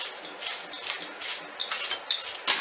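Brown sugar (bhura) and dry ginger being mixed in a dish for gond makhane dry panjiri, with a spoon clinking and scraping against the dish in a string of quick, close strokes and no talk.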